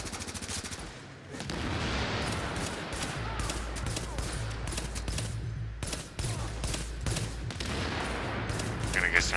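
In The Division video game on Xbox One, loud, rapid bursts of automatic gunfire repeat across the stretch amid a dense wash of battle noise, with a player talking over it at times.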